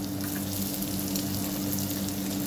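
Chopped onion sizzling in a little butter in a pan for a Tamil kuzhambu, a steady close frying hiss with faint stirring, no talk over it.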